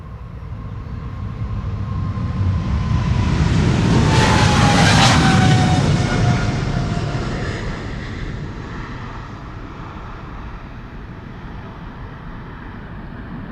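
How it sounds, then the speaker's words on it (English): A KLM Boeing 777-300 jet roars down Polderbaan runway 36L at Amsterdam on takeoff, a broad rumble swelling to a loud peak as it passes close, then fading into a long, steady distant roar. "This is KLM flight 591, 777-300 going to Johannesburg."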